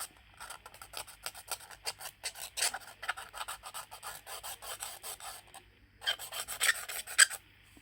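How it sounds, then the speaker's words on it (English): Repeated close rasping scrapes as a Huawei Y9 Prime phone screen is worked loose during a replacement, steady strokes with brief pauses and a sharper burst near the end. "looks like you're going to watch me scrape away all day"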